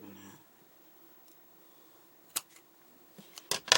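Scissors cut fabric for a handmade turtle plushie, with a few quiet, crisp snips scattered near the end after a mostly still stretch.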